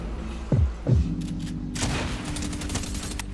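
An SMG in Fortnite fires a fast, continuous burst of shots alongside a couple of deep booming thuds near the start, loud and close.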